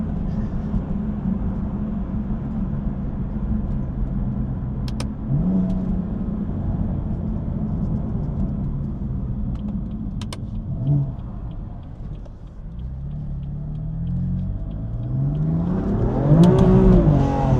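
A tuned BMW M4 F82 Competition with downpipes and intakes accelerating hard through the gears, heard from inside as a steady loud engine drone that climbs in pitch at the end, with brief shift blips along the way.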